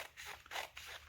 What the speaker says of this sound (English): I'll just use scissors.